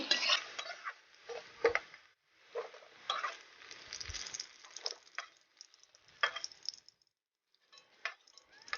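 Potatoes and eggplant frying in a pan for a Bengali fish-head and greens dish, with bursts of sizzling, stirring and utensil clinks against the pan, close and moderately loud, broken by short pauses.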